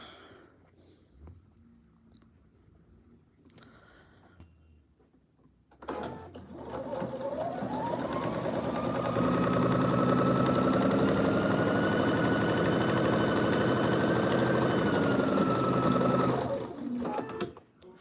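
A sewing machine stitches repetitive X's across a quilt, running loud and steady for about ten seconds after some quiet talk, then slowing to a stop.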